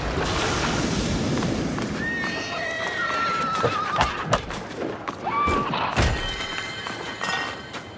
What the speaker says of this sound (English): Oh no, the horses!